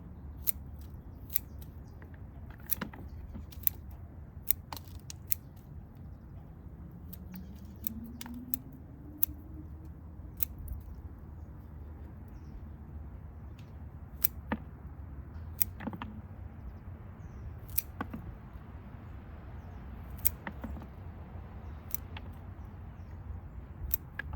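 Sharp snipping clicks come at irregular intervals over a low steady background hum, as scissors cut through the thick, fleshy roots of a large Valeriana rubra plant during repotting.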